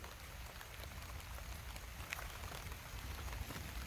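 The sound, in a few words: rain falling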